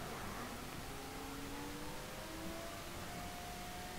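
Nissan GT-R engine in the racing game Need for Speed Shift, a steady whining drone with rising tones as it accelerates, fairly faint under broadband road and wind noise, no talking.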